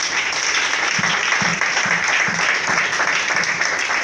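A church congregation breaks into sustained applause, a dense wash of clapping with a few louder claps standing out, with no voice on top.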